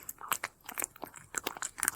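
A cat eats canned cat food up close, with quick, irregular wet smacking and crunchy chewing sounds in short bursts, quiet and alone.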